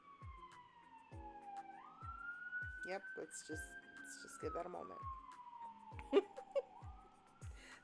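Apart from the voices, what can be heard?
distant emergency vehicle sirens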